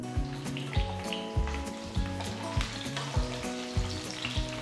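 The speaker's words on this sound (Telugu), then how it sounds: "ఇందులో ముందుగా చీల్చిన దొండకాయలు వేసి వేయించాలి" Slit ivy gourds frying in about three tablespoons of oil in a kadai, a loud continuous sizzle broken by regular spoon knocks and stirring strokes against the pan, close up with no talk.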